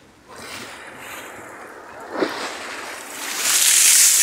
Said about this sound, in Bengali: পানির ঢেউ কই ওঠে একদম